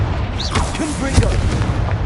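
A Confringo fire spell blasts in Hogwarts Legacy, a booming explosion punching through over an ongoing din of game sound, with a voice speaking over it.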